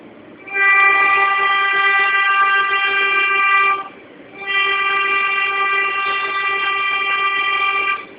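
Brooklyn Broadway El elevated train sounds two long sustained horn blasts with a short gap between them, loud and steady, over a faint rumble of the line.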